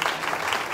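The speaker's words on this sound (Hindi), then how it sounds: "आइए जोरदार तालियां कलाम मुकद्दस के लिए" Church congregation clapping together during a daily live prayer service, a dense steady patter of many hands filling the short moment without pause.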